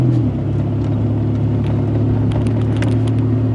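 An old Buick LeSabre's engine idling steadily, a loud, close, deep rumbling drone with a slight shift in tone early on, then an even running note with faint ticks above.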